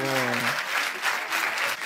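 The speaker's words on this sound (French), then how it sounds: "Applaudissez-le" Audience applause breaks out at a French comedy show, a steady wash of clapping over a brief stretch of voices and laughter at the start, sustained and fairly loud throughout.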